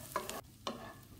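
Mie Aceh noodle spice paste with red bird's eye chilies is stirred in a frying pan, two quick scraping strokes over a soft sizzle, close and fairly quiet.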